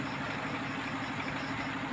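A semi-modern water well drilling machine engine runs steadily at close range, a dense continuous drone with a low idling rumble and no breaks.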